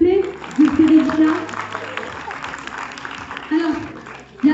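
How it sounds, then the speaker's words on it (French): A French audience at a classroom-style event claps, with short bursts of applause mixed in with speech and crowd noise. "On peut encore l'applaudir, s'il vous plaît"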